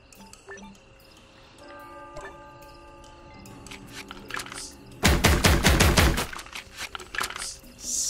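A fast burst of rapid-fire shots from a gun in the Disney Infinity video game, playing as Randall in a Monsters University world. Quiet game chimes and tones come first, and the loud volley lasts about a second before scattered shots follow.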